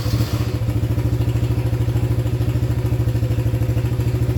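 A Yamaha 80cc four-wheeler engine fires on the first button press and settles into a steady, loud, close putter. Its rhythmic low chug runs evenly for several seconds with a faint clatter on top.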